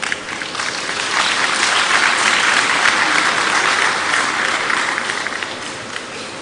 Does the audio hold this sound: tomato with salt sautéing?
no